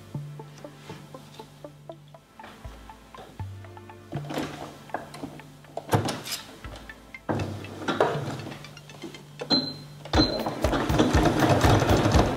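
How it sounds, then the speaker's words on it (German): A sewing machine stitching two fabric face halves of an elephant pillow together, running in several whirring bursts with brief pauses, close, and louder and faster near the end. "jetzt können wir die beiden Gesichtshälften entlang dieser Linie zusammennähen"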